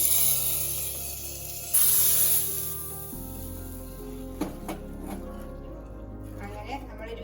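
Oil hisses and sizzles as a tempering is fried for puliyinchi, a Kerala sadya tamarind-ginger dish. The sizzle is brief and moderately loud, then fades under a person talking.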